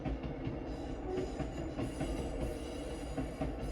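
A train rumbles steadily past a house, a continuous low, broadband roar with faint rhythmic wheel clatter, heard from indoors at moderate distance without any voices.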